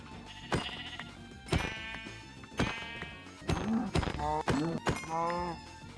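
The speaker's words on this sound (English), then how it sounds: "Sheep. Sheep, sheep, sheep, sheep, sheep, sheep, sheep." Sheep in the Minecraft video game bleat several times in quick succession, clear wavering calls after a few sharp clicks, heard close and fairly quiet.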